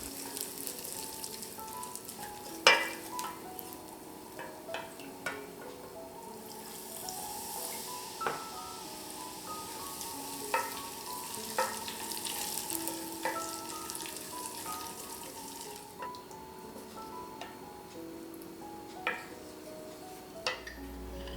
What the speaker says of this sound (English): I separate into 3 batches and I stir after each batch to prevent burning